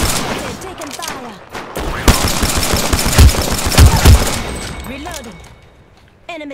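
Rapid bursts of automatic gunfire in a shooter game, loud and close, with dense overlapping shots that fade out near the end; a voice talks over it.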